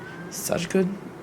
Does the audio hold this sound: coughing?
no